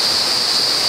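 A waterfall reached by a walk near the beach roars as a steady, dense rush of water, loud and continuous with no breaks or voices.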